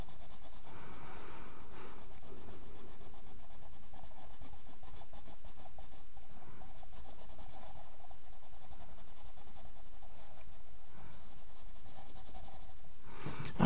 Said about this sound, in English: I'm going to shade in the cut surface with brown, a brown coloring pencil.